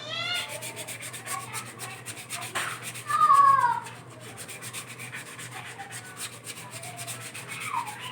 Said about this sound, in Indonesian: terus diamplas